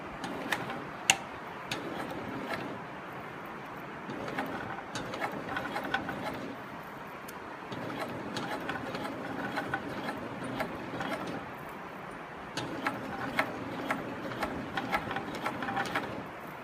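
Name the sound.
SewPro 18365 high post sewing machine stitching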